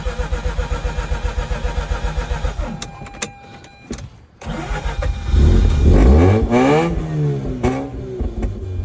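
A 2004 Mazda RX-8 rotary engine with an idle problem runs with a rough, pulsing idle, cuts out and falls silent, then is restarted and revved loudly at close range.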